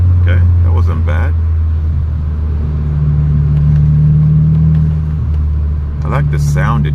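Turbocharged Audi S3 8L with a boost controller holding a steady, loud engine drone close by, with a slight rise in pitch mid-way, while someone talks over it at the start and end.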